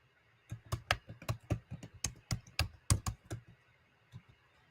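Computer keyboard typing during an online video call: a run of sharp, quick key clicks in irregular bursts, fairly close and clear, with no voices over them.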